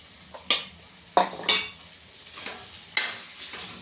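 A metal spoon scrapes and clinks against a pan while soybean masala is mixed, a few sharp irregular knocks and scrapes close by with quiet gaps between.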